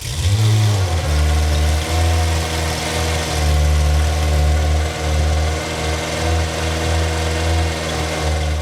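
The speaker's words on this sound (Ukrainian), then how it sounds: "Ревіння двигуна та звук від лопастей, які розсікають повітря" A loud homemade helicopter engine roars steadily with a deep, droning hum and rhythmic throbbing of rotor blades, close by and continuous throughout.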